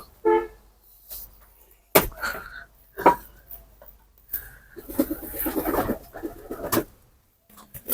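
Soft cooing of a sick, lice-infested pigeon sounds up close in short bursts, separated by quiet gaps and a few sharp knocks and rustles.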